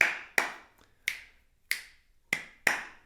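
Hand claps keep Misra Chapu tala, seven sharp, evenly spaced claps at close range over about three seconds, with no voice.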